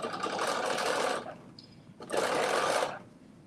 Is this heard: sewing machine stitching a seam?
yes